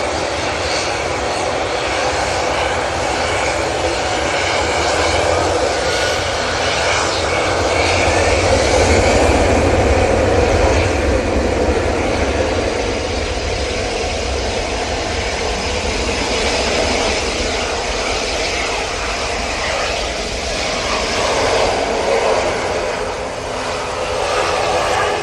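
An Emirates Airbus A380 airliner arrives at Manchester Airport, its engines roaring loud and steady for about 25 seconds with a broad rushing whine that swells slightly midway.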